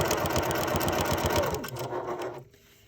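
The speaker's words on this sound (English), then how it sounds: "we're just going to sew till we get to this strap" A sewing machine stitches denim for an upcycled jeans tote bag, a fast, even mechanical whir close up that slows and stops near the end, leaving near silence.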